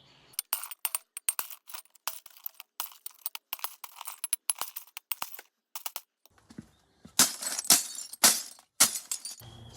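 Glass bottles, brown, clear and green, smashed into pieces: a rapid series of sharp crashes and clinks for several seconds, with heavier, louder breaks bunched toward the end, and no talking.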